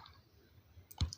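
A single tap on the plus icon in the Quora app, a short sharp click near the end, heard alone over faint background hiss.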